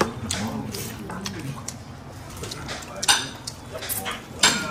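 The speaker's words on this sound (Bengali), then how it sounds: "মামুনি আবার চামচে দিয়ে শশা খাচ্ছে" Metal spoon clinks sharply against a plate several times while cucumber is eaten at a home birthday meal of mutton biryani and chicken curry, with people chatting throughout.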